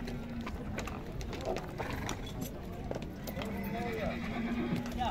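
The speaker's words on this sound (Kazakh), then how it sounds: "Таза өзіздегі қырғыз жылқыдан кен" At a horse market in Chuy, Sokuluk, Kyrgyz horses whinny and hooves clip-clop over a steady outdoor background, while people talk throughout.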